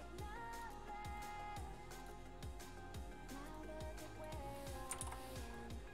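Fingers type on a computer keyboard in a rapid, irregular run of sharp clicks over about six seconds, with faint background music underneath.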